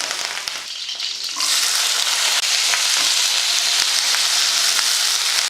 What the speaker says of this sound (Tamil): கூடவே கொஞ்சம் கருவேப்பிலையும் போட்டு கொஞ்சம் அந்த லைட்டாக இந்த பச்சை வாடைக்காக வதக்கிக்கலாம்